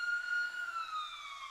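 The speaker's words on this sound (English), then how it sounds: "Let the ambulance go by. You probably can hear it." An ambulance siren sounds steadily at a distance as it passes, a faint wailing tone that slowly drops in pitch.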